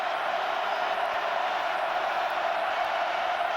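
A packed stadium crowd roars at the 2008 Oklahoma Sooners vs Texas Tech Red Raiders college football game. The noise is a dense, continuous wash that stays loud and even throughout.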